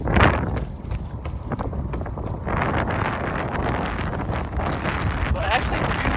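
Wind gusts buffet the microphone during an early morning long run in preparation for the Boston Marathon, a loud, continuous rumbling roar with people talking over it.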